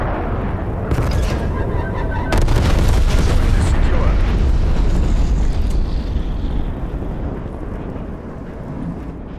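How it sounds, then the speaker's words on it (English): An enemy napalm strike in Call of Duty: Black Ops Cold War Hardpoint makes loud, sustained rumbling blasts and roaring fire that swell and linger, with dense low booms layered over the whole stretch. "Enemy napalm strike incoming."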